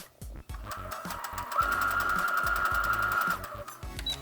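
A sewing machine stitches quilt pieces together with a steady mid-pitched whirring run in the middle, framed by brief starts and handling clicks, close and fairly loud.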